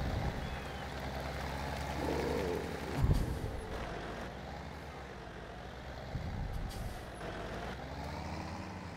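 Truck in the Farming Simulator video game, engine rumbling steadily, with a sharp hiss of air brakes about a third of the way through and faint beeps afterward.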